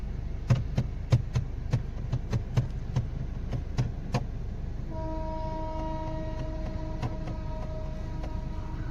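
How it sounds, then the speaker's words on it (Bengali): A long freight train with two engines approaches a level crossing on a road through Purulia, with a lorry waiting ahead; rhythmic clattering knocks fill the first seconds, then a steady tonal drone sustains over continuous rumble. "ওই যে মালগাড়ি আসছে এই সাইড দিয়ে, ঢিকির ঢিকির করে"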